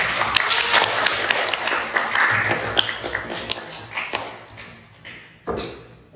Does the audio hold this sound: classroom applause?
yes